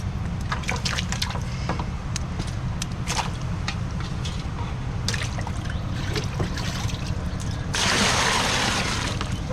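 Small freshly caught fish are released into water held in a drum, giving a steady close trickling and splashing that swells into a louder surge near the end.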